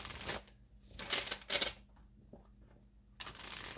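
Tarot cards are shuffled in a few soft riffling bursts with short pauses between them, close and fairly quiet.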